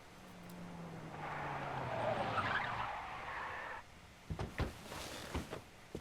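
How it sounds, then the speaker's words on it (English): Tires screech in a long skid in the Yakuza 4 video game, with a steady engine drone and a squeal peaking mid-clip before cutting off, followed by a few sharp thuds and knocks. "that's not a good sound of a car pulling up"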